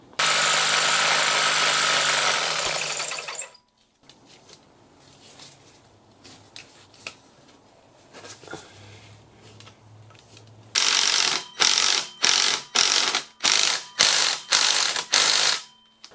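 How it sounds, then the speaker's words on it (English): Drilling a hole for tapping with an 11/32 drill bit, a loud sustained drill run, a quieter pause with clicks and handling noise, then a series of short repeated drill bursts. "I'm gonna go ahead and actually drill it for tapping. Now the one I'm using is gonna be 11/32."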